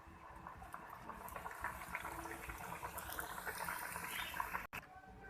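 Potato samosas deep-frying in hot oil, a steady dense bubbling sizzle that runs continuously and close, briefly cut off near the end.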